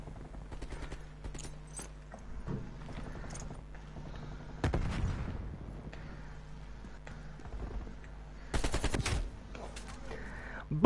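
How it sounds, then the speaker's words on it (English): SMG gunfire in Call of Duty Cold War, heard as scattered bursts of rapid shots with a couple of louder, denser volleys near the end, mixed with game mechanism clicks and no clear talk. "This guy's sniping me with an SMG."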